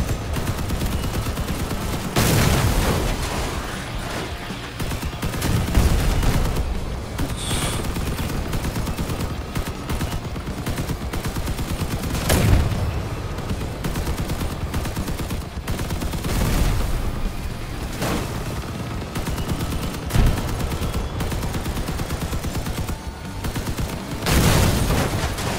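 Vehicle combat gunfire in the game Crossout, with bursts of shots and heavy booms recurring every few seconds over a continuous rumbling battle bed, with no talk.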